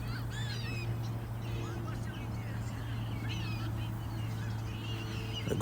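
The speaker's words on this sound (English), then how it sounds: "Look at the seagulls over there." Seagulls calling near the water, heard from a small DJI Mini 3 Pro drone flying overhead: several distant, squealing cries scattered over a steady, low motor drone, with occasional voices in the background.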